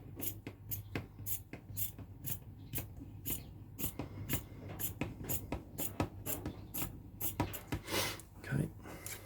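Speaker grille cloth from a long roll is cut in half with scissors, a steady run of close, crisp snips in an even rhythm, with a brief rustle of fabric at the end.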